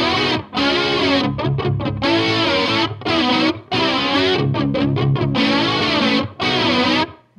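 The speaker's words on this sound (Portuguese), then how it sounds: "Eu escuto mais claramente o som da distorção, as notas da guitarra e o flanger." Electric guitar played through distortion with an exaggerated flanger sweep, loud and sustained with the tone swirling throughout, the chords broken by several short gaps between strummed phrases.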